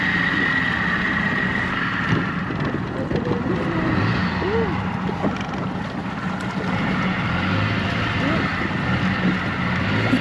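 A small aluminium boat's outboard motor drones steadily over water, with wind buffeting the microphone and a voice speaking briefly over the engine noise.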